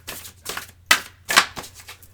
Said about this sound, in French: Alors, on va commencer à mélanger ce tas-ci.